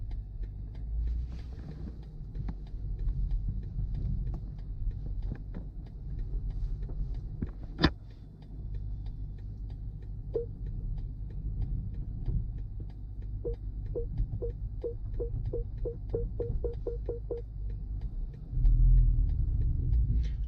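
A 2019 BMW X5 50i reverses into a parking space by itself, heard from inside as a steady low cabin rumble with a rapid series of parking-sensor beeps speeding up toward the end.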